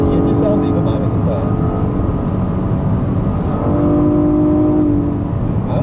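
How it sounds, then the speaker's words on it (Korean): Nissan Maxima engine heard from inside the cabin while driving, a steady low drone with faint harmonic tones that rise slightly near the end, holding at an even loudness throughout. "이 엔진 사운드 이거 마음에 든다"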